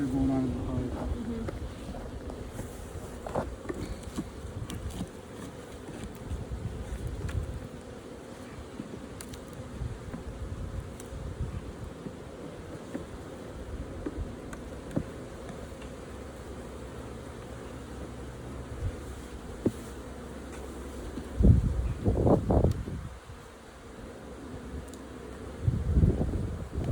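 Honeybees hum around a hive, a soft continuous buzz under wind noise with occasional louder passes near the microphone.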